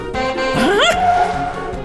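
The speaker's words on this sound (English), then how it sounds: "It barks as it chases after it." A cartoon dog gives a single rising, whiny bark-yelp over continuous background music in an animated children's show.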